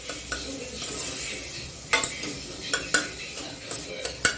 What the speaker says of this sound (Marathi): हे पण चांगलं मी मिसळून घेते